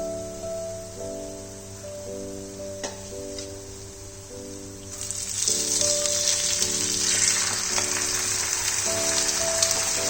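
Loita fish, or Bombay duck, goes into browned frying onion and spices in a pan, and a soft sizzle swells to louder crackling spitting partway through over a steady background hum.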